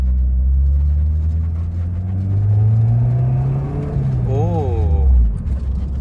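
A Honda S2000 with J's Racing parts rumbles along while driving, the engine note rising and falling through short revving bursts, with a person talking over it.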